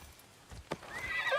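A horse in the video game Assassin's Creed Shadows gives a short, faint neigh, preceded by a few soft hoof clops, with no talking.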